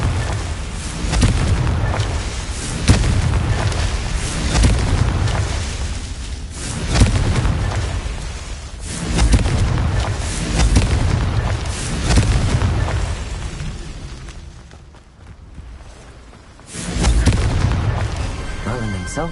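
Confringo fire spells go off in the Hogwarts Legacy video game as a run of loud, booming blasts. They roll in waves every couple of seconds, with a short quieter stretch before a final burst.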